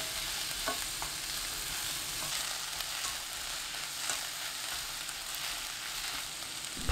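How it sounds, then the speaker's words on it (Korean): Perilla oil and fine salt sizzle in a pan as ingredients are stir-fried over high heat, a steady bright crackle with scattered scraping clicks from the spatula, close and continuous with no voices. "골고루 섞이면 센 불로 켜고 5분 볶아주세요."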